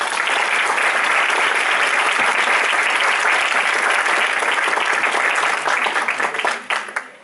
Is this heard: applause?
yes